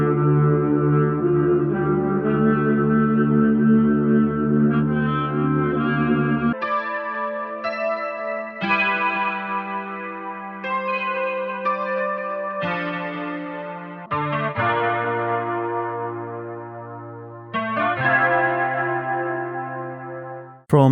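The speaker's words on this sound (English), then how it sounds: "This is a collection of 8 original loops inspired by your favorite mafia movies" Original loops from the Family First 2 sample pack, inspired by mafia movies, with melodic chord and note phrases that shift every few seconds over about twenty seconds, full and close, with no voices.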